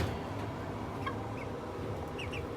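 Young barred rock and olive egger chicks give a few soft, high peeps and chirps. The calls are faint and scattered over a low, murmuring background.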